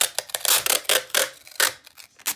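Series of loud, rasping screeches of tape being pulled off a roll in quick uneven bursts, close by, with brief pauses between pulls.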